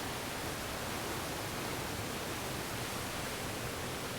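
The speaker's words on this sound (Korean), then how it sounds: "좁은 바위 사이를 터질 듯 쏟아져 내리는 하얀 포말의 물줄기" Foaming white water at Gumunso in Taebaek, swollen by heavy summer rain, rushes and pours through a narrow gap between rocks as a loud, steady, continuous roar with no voices.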